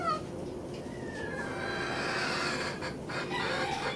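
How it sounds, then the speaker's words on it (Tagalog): Several broodcock chickens cluck and chatter continuously at close range, with a rising call or two standing out over the flock. "Mahalin po natin ang ating mga alagang manok."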